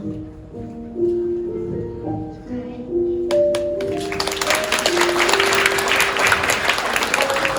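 Wedding guests applaud in a wedding hall, the clapping swelling from about three seconds in and filling the room over soft melodic background music that plays alone at first.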